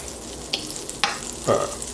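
Butter melting in vegetable oil in a pan, giving a soft, steady sizzle with a few brief brighter bursts, heard close and alone.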